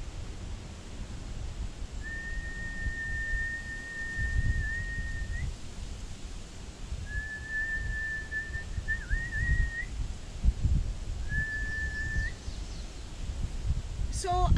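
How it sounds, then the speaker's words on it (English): Three drawn-out whistled notes, the last short, carry over steady wind noise outdoors as a person whistles to call horses in a distant run-in. "I can whistle, but I can't whistle all that well."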